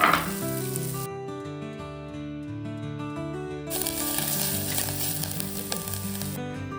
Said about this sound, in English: Add the chopped onions and cook until they turn soft and slightly golden